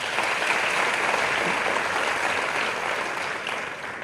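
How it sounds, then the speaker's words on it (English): An audience at a youth summit in Morocco applauds, producing steady, dense clapping throughout that stays loud and even before easing slightly at the end. "So give him another round of applause."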